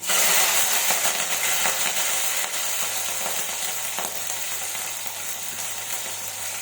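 Green chillies sizzle and fry loudly in a pan of oil, a constant close-up crackle that continues throughout, with no talking.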